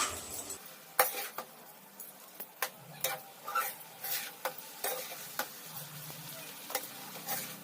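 Rice mixture being stirred in a pan for a garlic-pepper lunchbox rice, with repeated scraping, clinking strokes of a spoon over a soft background sizzle, no voices.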